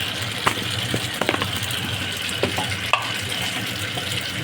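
Pasta fries in a pan with pepper, vinegar and soy sauce, a steady close sizzle broken by scattered clacks of stirring, with no talking.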